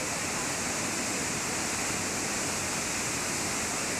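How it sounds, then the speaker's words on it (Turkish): Roaring rush of Manavgat Waterfall in Antalya, a steady, dense wall of falling water heard up close with no breaks or other sounds. "Evet, Manavgat Şelalesi."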